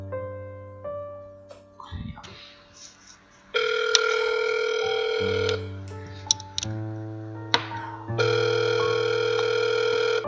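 A telephone call goes unanswered, with ringback tones sounding in long electronic bursts separated by short gaps and clicks. The tones are clear and close, and a little faint background sound is heard between them.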